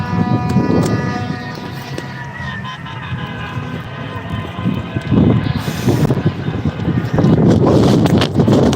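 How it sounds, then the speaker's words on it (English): Strong wind blows at an outdoor protest in Coos Bay, Oregon, a steady broadband roar with gusty surges that grow louder toward the end, buffeting the microphone, with faint activity and possible talk around it. "It is fucking windy."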